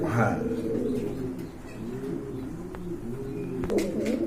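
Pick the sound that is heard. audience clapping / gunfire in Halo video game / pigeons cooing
pigeons cooing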